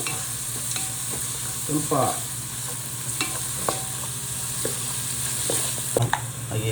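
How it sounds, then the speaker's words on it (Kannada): Chopped onion and curry leaves fry in a pan with a steady hiss, broken by spatula scrapes and stirring clatters at close range. A voice speaks briefly. "ಒಂದು ದೊಡ್ಡದಾದ ಈರುಳ್ಳಿ ಮತ್ತು ಕರಿಬೇವಿನ ಸೊಪ್ಪು ಹಾಕಿ ಚೆನ್ನಾಗಿ ಇದನ್ನು ಹುರಿಬೇಕು"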